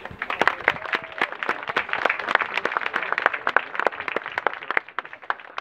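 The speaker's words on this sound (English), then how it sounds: "you've been clapping feverishly all day" Steady, dense audience applause at a Dublin fire brigade graduation ceremony, many hands clapping together close by with sharp individual claps standing out throughout.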